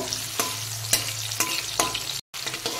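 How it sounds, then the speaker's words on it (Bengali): Medium tomato being stirred and fried in a pan for an onion-free, garlic-free cauliflower curry: steady sizzle broken by four or five sharp scraping stirs, with a brief cut to silence near the end. "এবার টমেটোগুলো খানিকক্ষণ আমি এইভাবে করে নাড়াচাড়া করে নেব"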